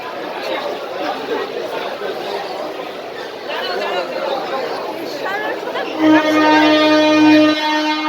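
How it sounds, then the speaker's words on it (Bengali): Dense crowd chatter fills a packed Sealdah railway station in Kolkata, many overlapping voices close and steady throughout, with a loud tonal horn or announcement tone cutting in near the end. "ট্রেন স্টেশনে মোটামুটি মেলার ভিড় লেগে গেছে।"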